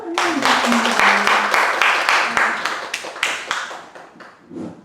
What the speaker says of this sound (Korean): 박수로 환영드리겠습니다.